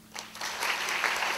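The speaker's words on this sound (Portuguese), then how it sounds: "Um pouco de aplauso para o número 1." Theater audience applause at a comedy show rises quickly into a dense, steady patter of many hands clapping, moderately loud and sustained for its brief length.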